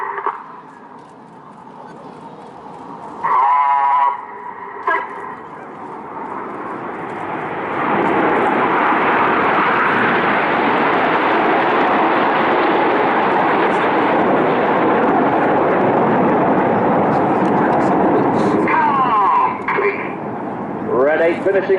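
Red Arrows jets perform a display at the Bournemouth Air Festival, their roar swelling from a distant rumble into a loud, sustained jet noise that runs for most of the stretch, with a commentator speaking over it at the start and end.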